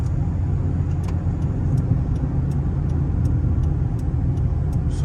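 Car engine and road noise from inside a vehicle during a U-turn at an intersection in Qatar, a steady close low rumble with faint ticking of the turn signal above it.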